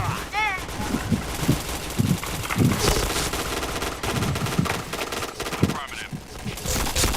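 Rapid automatic gunfire from the online shooter Point Blank, bursts of shots crackling throughout with dense game effects, while a player talks over the action.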